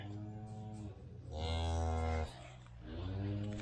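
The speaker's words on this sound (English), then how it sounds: "That is a nice cow though, isn't it?" Cattle in a calving pen on a farm lowing in a long, loud moo, with quieter lowing before and after.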